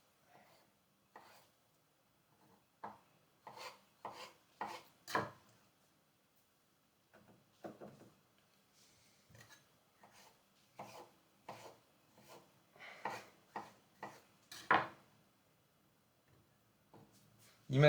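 Food being cut for a chocolate and pear entremet in a home kitchen, with a knife tapping and scraping on a board in short, irregular bursts, fairly close and quiet, and no talking.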